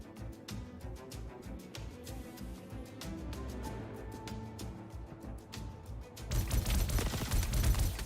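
Rapid gunfire from a spacecraft strafing run in Star Citizen, dense repeated bursts throughout with a louder, heavier burst of shots and impacts near the end.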